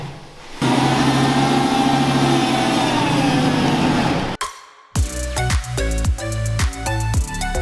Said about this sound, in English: there's nothing like a V10 in the morning with a little side of check engine light